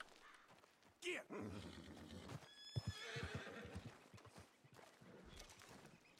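A horse in the Red Dead Redemption 2 video game gives a loud, shaky neigh and whinny, followed by snorts, hoof clops and rustling movement, with quieter gaps between.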